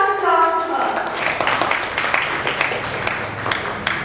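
At a book release, an audience claps for the author, opening with a dense burst that settles into scattered, uneven hand claps over a few seconds, with faint voices murmuring underneath.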